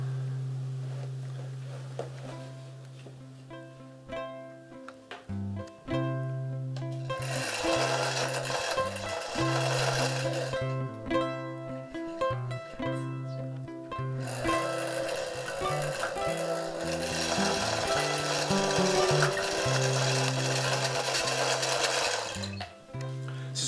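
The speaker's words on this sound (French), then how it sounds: "C'est une bobineuse de fil pour les fils de tissage aux fermières." Homemade yarn bobbin winder driven by an old typewriter motor, whirring with a steady electric hum and rapid mechanical clatter that surges louder in two long bursts and drops back between them, close by and without talk.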